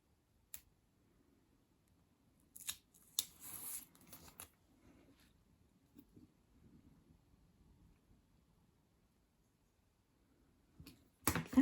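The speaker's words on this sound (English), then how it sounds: "So just trim very carefully down each edge." Scissors or a blade trimming paper strips along the edges of a dolls house roll top, heard as a few quiet, close snips and crisp rustling clusters with long near-silent gaps between them.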